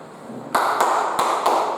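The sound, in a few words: clapping pattern 'tepuk 2' in a class clapping routine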